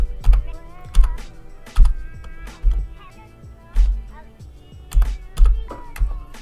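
A computer keyboard is typed on in short irregular bursts of clicking keystrokes, close and fairly loud, entering a search with pauses between words.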